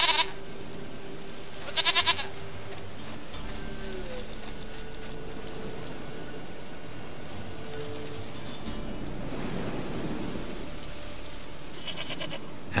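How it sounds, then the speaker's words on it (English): A goat bleats in short bursts a few times, fairly near, over a low steady ambient background with no talking, in the video game The Witcher 3: Wild Hunt. "Goat of mine, dearest, sweetest goat."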